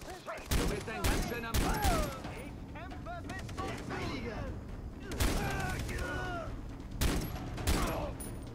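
Gunfire in the video game Far Cry 3, several sharp loud bursts of shots spaced apart with quieter game sounds between, while people talk over the action.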